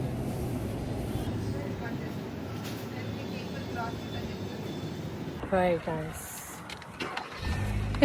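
A car is pulled out and started at night during a winter storm, giving a steady low engine and road rumble with a brief mechanical whir partway through, while people talk over it.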